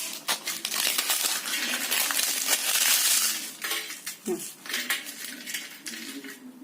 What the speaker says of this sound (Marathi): आता मी हा पापड तुम्हाला तोडून दाखवते किती हलका आणि खुसखुशीत झालंय